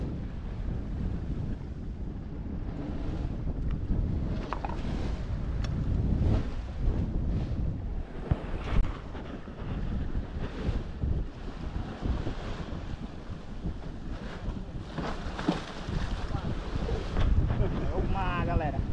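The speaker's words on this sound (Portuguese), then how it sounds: "É o mar, galera." Steady sea wind roars across the microphone aboard a fishing boat out at sea, with waves washing around the hull in a continuous, loud, rumbling wash.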